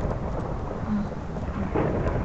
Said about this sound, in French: Non, j'entends juste les orages.